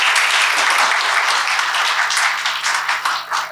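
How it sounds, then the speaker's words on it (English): An audience applauds panelists at the close of a panel discussion at Greenwich University, with dense, steady clapping from many hands filling the room and thinning slightly toward the end. "Please give a huge round of applause for our panelists."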